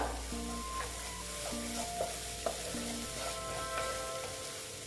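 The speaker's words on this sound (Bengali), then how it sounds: "মোটামুটি কষানো হয়ে গেছে, আর একটু কষিয়ে নিচ্ছি।" Spiny gourd (kakrol) curry is sautéed in a pan, with a soft continuous sizzle and a few distinct scraping stir strokes and light clinks, fairly quiet and without speech.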